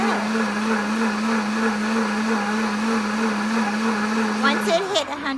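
A blender running its self-cleaning cycle gives a loud, steady motor whir that winds down near the end, with a brief clatter as it stops.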